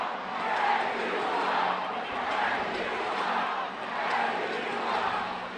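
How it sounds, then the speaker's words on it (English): Crowd at an ECHL hockey game in Norfolk's Scope arena chanting, a dense mass of voices rising and falling in a steady repeating rhythm, loud and continuous throughout. "That chant's getting louder and louder."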